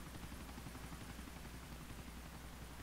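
Helicopter rotor and engine in GTA IV multiplayer, a steady loud broadband whir with rhythmic low chopping that holds unbroken throughout, with no talk over it.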